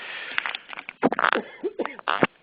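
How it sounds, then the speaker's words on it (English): A few sharp coughs and throat-clearing bursts, close and loud, with brief pauses between them. "had a little cough there"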